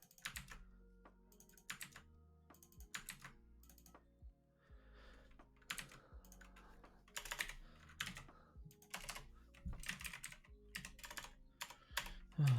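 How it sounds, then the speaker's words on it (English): Computer keyboard typing very close to the microphone, loud bursts of rapid clicks separated by short pauses over quiet background music. "my typing's a bit screwed up at the back because I've got the mic right in front of me, in between my hands."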